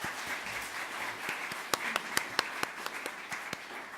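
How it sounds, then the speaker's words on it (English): An awards-ceremony audience applauds at a steady, moderate distance, scattered sharp claps standing out from the dense wash of hands for several seconds. "Round of applause, please"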